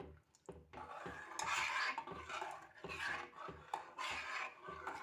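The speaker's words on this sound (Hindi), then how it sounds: "और मिक्स कर देंगे अच्छे तरीके से" Rice kheer being stirred and mixed in a pressure cooker with the flame off: repeated scraping, rasping strokes of a spoon against the metal pot, close and steady, with no talking.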